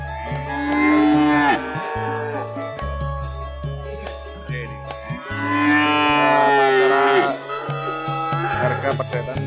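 Several cattle moo loudly in long drawn-out calls, one after another, close by, with a busy crowd murmuring underneath at the Plaosan cattle market in Magetan, East Java.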